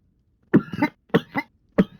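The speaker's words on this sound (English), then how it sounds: "I'm coughing all over the place." A person coughs in three short bursts of harsh, dry coughing with brief pauses between them, close and fairly loud, with no speech.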